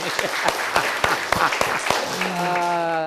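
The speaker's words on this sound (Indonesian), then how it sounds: "tepuk tangan" Clapping from a group, sharp irregular claps close by, fading as a sustained tonal sound rises at the end.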